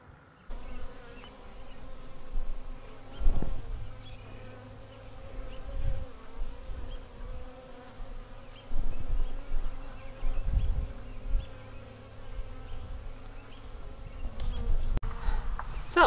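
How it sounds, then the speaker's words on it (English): Live bees crawl and buzz inside a partly opened bag, a continuous close insect hum that swells and fades with soft rustling and scratching. "I'm wanting any bees that are stuck in that bag to be able to find their way out."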